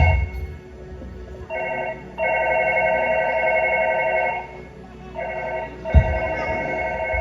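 A telephone bell rings loudly in repeated long bursts with short pauses between them, during a church-day night stage program.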